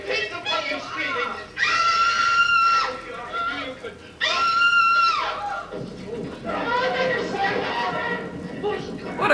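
Screams from the Doctor Who serial Fury from the Deep come in sustained shrill bursts over a frantic soundtrack, with people reacting and talking around them.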